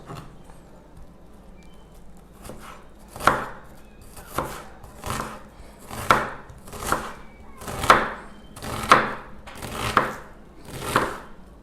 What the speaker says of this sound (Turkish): Diğer soğanımızı da aynı şekilde küçük küçük doğrayacağız.